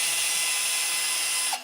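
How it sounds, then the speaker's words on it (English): An electric drill whirs steadily at a high pitch for under two seconds, close and fairly loud, then cuts off abruptly at the end. "and even this drill"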